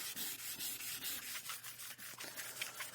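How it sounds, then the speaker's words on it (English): Sandpaper rubbing back and forth over a painted wooden board to distress the finish, a steady close-up scraping with quick repeated strokes throughout, and no voices. "on the sandpaper, you're going to get some buildup, so you probably will end up going through quite a bit of sandpaper"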